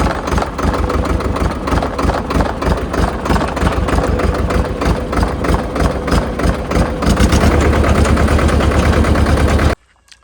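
A Sonalika 4x4 diesel tractor engine runs close by with a loud, rapid, steady chugging rhythm. It grows slightly heavier near the end, then cuts off abruptly.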